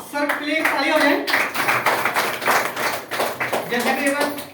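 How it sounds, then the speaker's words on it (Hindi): An audience at a business presentation breaks into applause, a dense, sustained patter of clapping hands that starts after a brief spoken call and continues under a voice. "सर प्लीज ताली हो जाए।"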